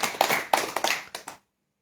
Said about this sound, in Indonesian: Tepuk tangan untuk Romo Yai Solihin ya.